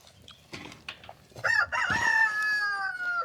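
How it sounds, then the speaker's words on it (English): A rooster crows in the morning in its new coop, one long drawn-out cock-a-doodle-doo rising after a few short clucks, close and loud. "That was like his first crow I've heard this morning."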